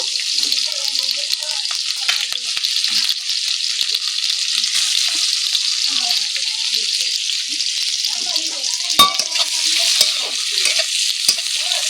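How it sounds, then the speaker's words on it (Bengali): Ash gourd fries in hot oil with black cumin, onion and chili, a loud, bright, continuous sizzle close up, broken by occasional stirring clinks and one sharp metallic knock. "তো আমি এখন চাল কুমড়োটা ভেজে নেব।"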